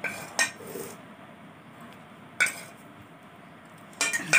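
Flour dough is worked together with shortening in a bowl for a homemade namkeen recipe: quiet handling broken by three separate clinks and scrapes of a metal utensil or bowl, close by with no talking.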